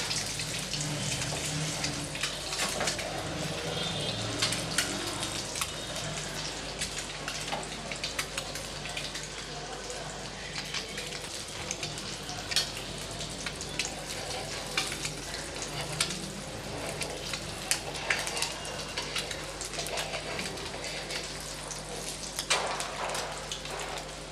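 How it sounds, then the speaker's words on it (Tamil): Egg pieces frying in a pan for pepper masala, a continuous soft sizzle and crackle with occasional faint clicks, fairly quiet and steady throughout, no talking. "ரெண்டு சைடும் நல்லா வறுத்து எடுத்துக்கலாம்"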